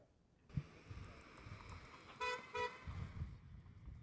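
A car horn honks in two short blasts near a strike picket line in the early morning, set over steady road noise and distant traffic.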